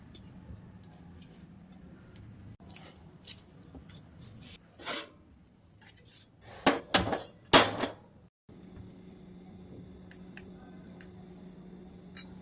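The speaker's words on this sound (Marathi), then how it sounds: "हे ना एकदम बारीक करून घ्यायचा बटाटा, मॅशरनेच बारीक करून घ्यायचा" Boiled potatoes are mashed with a potato masher, giving soft squelching presses and metallic ticks against the pot, clustered into a louder burst of rhythmic mashing in the middle, close by and otherwise quiet.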